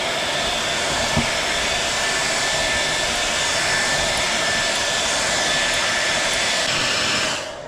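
A heat gun blowing continuously while the fenders of a Nissan 300ZX twin turbo are rolled, a loud steady hot-air roar throughout that cuts off right at the end.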